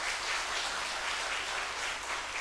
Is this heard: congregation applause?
yes